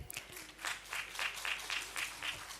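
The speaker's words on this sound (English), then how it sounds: "Ladies and gentlemen, one last round of applause for all of them." A workshop audience gives a final round of applause at the end of a transport session. The clapping is moderate and rhythmic, with pulsing bursts for a couple of seconds.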